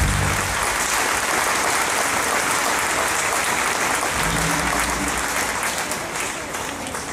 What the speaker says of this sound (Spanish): Y les quiero pedir un fuerte aplauso.